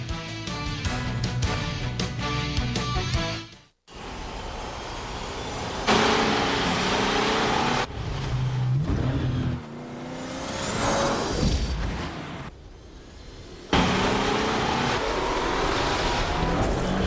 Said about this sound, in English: The new 210 horsepower supercharged Nissan Xterra.